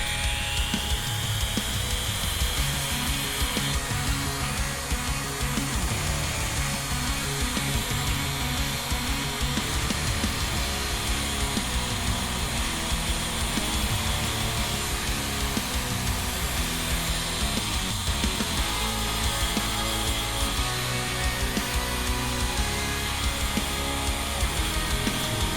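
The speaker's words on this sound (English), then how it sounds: "Get my Dremel." A Dremel rotary tool clamped in a vise whines steadily at low speed while cleaning nubs off small photoetched model parts for a 1:1000 starship kit, a continuous close buzz with no pauses.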